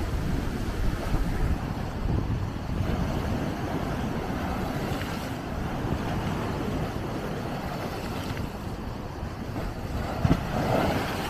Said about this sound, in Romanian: Așa valuri n-am văzut niciodată.